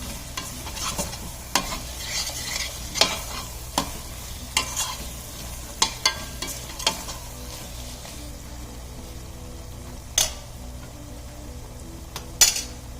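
Ingredients for Tamil wedding-style vatha kuzhambu, a tamarind curry, are sautéed and stirred in a pan for a large batch, with a steady low sizzle under repeated scraping stirs and occasional sharp metallic clinks of the spoon against the vessel.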